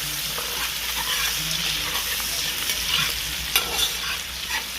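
Hot peppers and pimento fry in oil for a chataigne curry with pig tail, a steady, loud, close sizzle with occasional stirring scrapes and small pops throughout.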